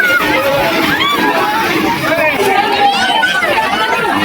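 Dense crowd of pilgrims near the Sangam gate at the Maha Kumbh in Prayagraj, a steady close wash of many overlapping voices and chatter with no pauses.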